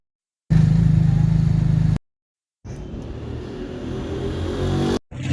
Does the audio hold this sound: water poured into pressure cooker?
no